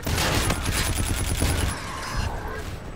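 Rapid automatic fire from the Karma rifle in the video game Call of Duty: Infinite Warfare, a dense loud stream of shots for over a second, then quieter game ambience with distant thuds.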